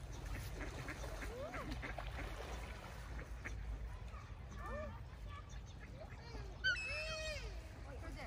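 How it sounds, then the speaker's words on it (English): Ducks quacking outdoors near water in Norway, several short nasal calls scattered through the stretch with a brief louder burst near the end, mixed with steady background noise and people talking throughout. "The ducks"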